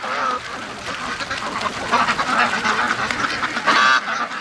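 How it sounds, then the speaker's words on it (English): A flock of ducks, including Muscovy ducks, calls and quacks at close range with a free-range morning flight home toward a lake, dense overlapping honking and quacking throughout with louder bursts near the end. "another Muscovy's flying home"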